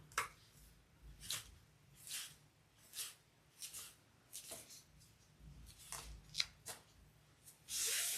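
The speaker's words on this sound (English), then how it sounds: "I'm just folding up that edge." Fabric on a handmade bag is folded and handled in soft, brushing rustles, roughly one swish per second, quiet and close, ending in a louder burst of rustling.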